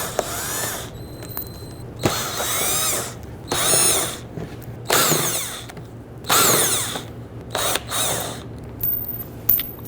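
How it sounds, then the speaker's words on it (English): A power drill repeatedly spins out 7mm screws along the lower lip of a Dodge Charger bumper, five or six separate whirring bursts rising and falling with pauses between, close and clear. "we have a series of 7mm screws. We're going to loosen and remove all of these."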